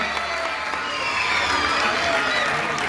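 An audience at a ceremony in Gujarat marking Birsa Munda's 150th birth anniversary greets the ceremonial lamp lighting with sustained, even applause from a large crowd, a steady dense patter filling the whole stretch.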